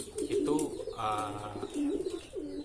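A pedigree pigeon coos nearby, several soft rounded low notes with a rolling burr in the middle, while someone talks quietly in the background.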